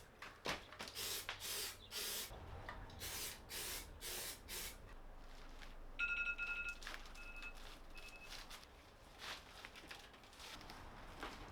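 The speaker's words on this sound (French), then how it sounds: "C'est un spray. On fait pchit, pchit sur les deux côtés qu'on veut coller." Spray adhesive hisses from a can in a string of short bursts onto both surfaces to be glued in a workshop, with faint clicks and a brief beeping tone partway through, no talking.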